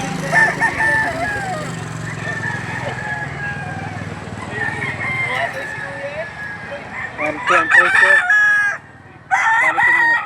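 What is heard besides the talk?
roosters crowing at a gamefowl market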